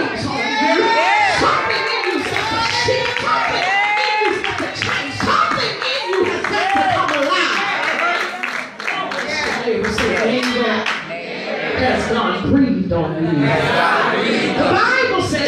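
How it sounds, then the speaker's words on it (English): A worship congregation at Greater New Jerusalem Worship Center claps hands loudly and continuously, mixed with cheering, whoops and shouting voices through a dense, lively crowd sound. "clap your hands and say hallelujah"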